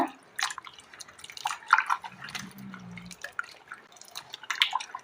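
Potatoes are rinsed in water for an aloo fry, with soft splashes and dripping close by, quiet and intermittent, and no talk.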